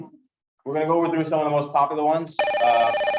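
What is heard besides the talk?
telephone ringing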